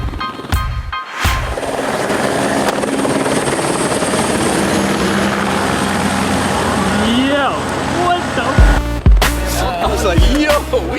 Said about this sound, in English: Then a helicopter comes into play.